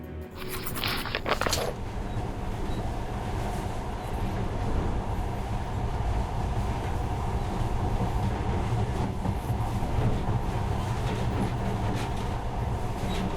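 A monorail train in the video game Metro Last Light rumbles along at a steady pace, a continuous low roar with a brief clatter at the start.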